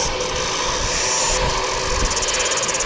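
An Air New Zealand Airbus A320 on flight NZ607, nine years old, at Wellington Airport gives a steady, broad engine roar that holds evenly and close throughout, with no talk.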